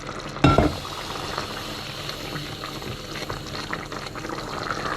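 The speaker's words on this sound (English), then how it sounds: "going back to medium heat, and add this stock little by little" Stock pours into a pan of 'nduja and chicken risotto over medium heat, giving a sharp splash and burst of sizzling, then steady bubbling and simmering up close.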